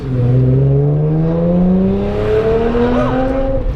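An Audi B8 S4 with a Polo Performance exhaust drives through night traffic, its deep, throaty engine drone held loud and close, rising slightly in pitch and staying steady throughout.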